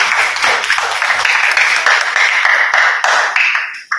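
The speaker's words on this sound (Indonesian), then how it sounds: "kita beri aplaus dulu untuk Pak Habibie" An audience at a talk on positive school culture applauds the speaker, a loud, dense round of clapping that holds steady and then fades at the end.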